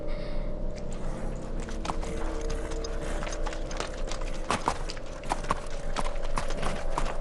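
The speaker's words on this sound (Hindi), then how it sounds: "घोड़े का नाम है मोनहन बॉय।" Horse hooves clip-clopping in a steady rhythm on a hard surface, fairly close, with a mechanical rattle and a low hum running underneath.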